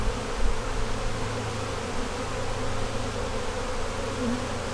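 Dense, steady buzzing of many honeybees swarming around an open hive, loud and close, with no talk.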